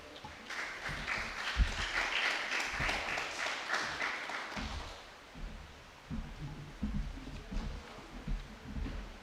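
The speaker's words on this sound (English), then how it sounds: "Round of applause as he comes to the podium." Audience applause at a police youth club awards ceremony, a moderate wash of clapping that fades after a few seconds, followed by scattered thumps and room noise.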